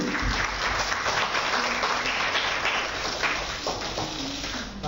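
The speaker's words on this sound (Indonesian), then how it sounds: "Kita berikan tepuk tangan sekali lagi." Sustained crowd applause at a Perindo party event backing the East Java governor candidates, continuous dense clapping that tapers slightly toward the end.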